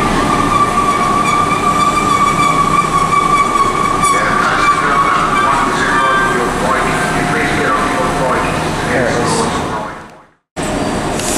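A West Midlands Railway Class 172 diesel multiple unit at Birmingham Snow Hill, its engine whine and rolling rumble loud and steady near the platform, fading briefly into silence near the end, with voices talking under it.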